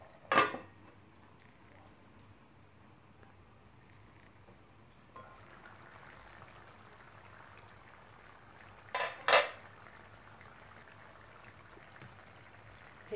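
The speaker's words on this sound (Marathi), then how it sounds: "एक मिनिट मी झाकण ठेवते" A lid is placed on a cooking pan of egg curry, making two separate metallic clatters several seconds apart over a quiet, low bubbling background.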